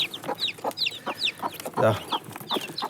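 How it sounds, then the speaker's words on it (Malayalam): A mother hen and her chicks leaving the coop, with repeated close clucks and high chick peeps in a steady run, plus one louder call in the middle. "ഇതാ തള്ളക്കോഴി കൂടിൻ്റെ മുകളിലേക്കാണ് ആദ്യം പാറി കയറിയത്"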